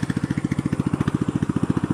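A small motor engine runs steadily in a rice field, its fast, even chugging pulses close and loud with no pauses and no talk over it.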